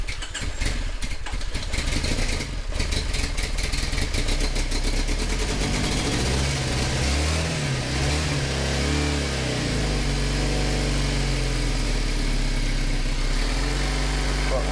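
A Triumph Bonneville with throttle position sensor issues starts cold and runs rich, first a harsh cranking clatter, then a loud, steady, close engine idle with a low throbbing pulse that holds on with no talk.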